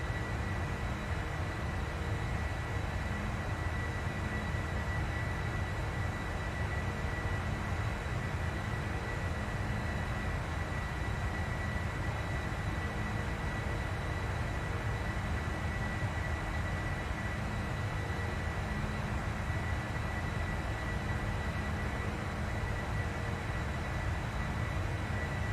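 Boeing 747 engines roaring steadily through a takeoff roll in a flight simulator, a continuous loud broadband rumble with a faint high whine holding level throughout, no voices.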